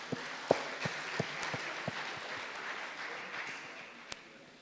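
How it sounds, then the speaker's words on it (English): An audience at a day-long Nigerian health evaluation meeting applauds the team of observers, a steady wash of clapping with a few sharper individual claps standing out, fading slightly toward the end. "So a big applause for the team of observers."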